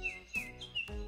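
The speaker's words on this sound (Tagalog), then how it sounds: "awit ng ibon" A bird sings a few short, bright chirps, with about three quick whistled notes in a second, clear and close with nothing else around.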